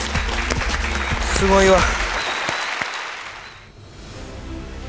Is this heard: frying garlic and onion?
no